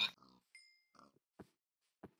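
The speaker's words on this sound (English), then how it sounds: "Whoa, there's a lot of pigs." Pigs in Minecraft give several short, separate oinks and grunts, clear and close against silence, with a brief tonal game sound between them.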